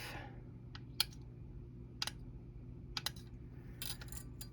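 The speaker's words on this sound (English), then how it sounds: "I'm just going to cut a few of those off" Slices cut from a polymer clay cane with black dots, a few separate crisp clicks of the blade through the clay spaced about a second apart, close and quiet over a low steady hum.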